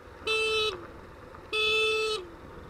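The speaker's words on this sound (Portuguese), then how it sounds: "Bem por aqui, dou duas buzinadas, ó." Motorcycle horn on a rocky dirt track near the Banabuiú reservoir, sounding two clear, loud honks, each held about half a second, separated by a short pause.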